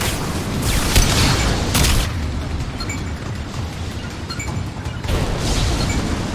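Gunfire and explosive blasts in the video game Mass Effect 2, with loud booming bursts at the start, quieter rumbling combat noise in the middle, and another burst near the end.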